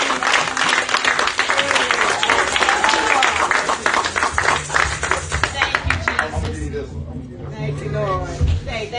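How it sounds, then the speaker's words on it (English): A church congregation claps along during a lively worship service, with quick, steady rhythmic hand claps mixed with voices and shouting that drop away partway through, leaving lower singing and music. "Hey, clap."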